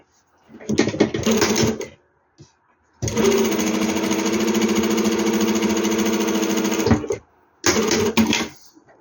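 Sewing machine stitching a T-shirt shoulder seam in three bursts: a short run, a long steady whirring stretch of about four seconds, then another brief run, with quiet pauses between.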